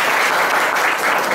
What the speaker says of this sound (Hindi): प्लीज एक बार जोरदार तालियां बजाएंगे सभी लोग